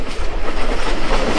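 A Sealdah to Diamond Harbour local train rumbles along the track with loud, continuous wheel noise and clatter, heard close from on board.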